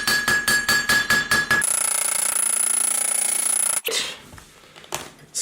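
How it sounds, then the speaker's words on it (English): A small hammer strikes a metal block used as an anvil to cut through a hoodie, about eight sharp ringing metallic blows in quick rhythm, then a sustained ring and a few softer knocks. "this is my small hammer, and I'm gonna use this to cut this off"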